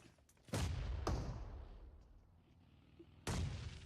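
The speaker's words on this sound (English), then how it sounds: "Nice nade from Malik." A grenade explosion in PUBG Mobile during a competitive match, heard as a few sharp, heavy booms with decaying tails separated by quieter stretches, moderately loud.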